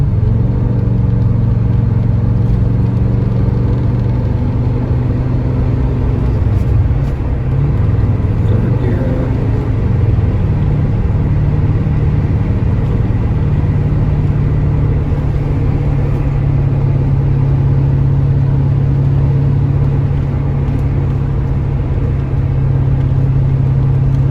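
A 1982 Porsche 928 V8 driving in second gear, a loud steady engine drone heard from inside the car, holding a fairly constant pitch with slight rises.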